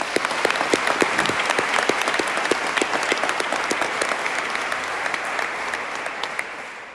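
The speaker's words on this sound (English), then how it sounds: "And so give yourselves a big round of applause." Audience applause fills a bill signing ceremony for HB 258, Ethan's Law, a steady wash of many hands clapping with sharp individual claps standing out, sustained and fairly loud throughout.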